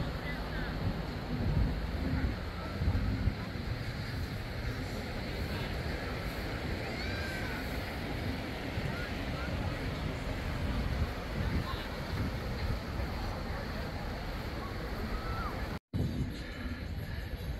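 Wind buffets the microphone alongside a constant wash of Pacific Ocean surf at the shore, a dense, rough roar that continues throughout with only a brief dropout near the end.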